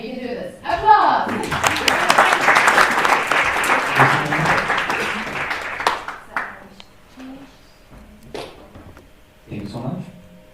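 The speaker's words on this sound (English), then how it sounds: "Applause!" An audience at a hackathon presentation applauds in a loud, full burst that gradually thins out to scattered claps, with a presenter speaking near the end.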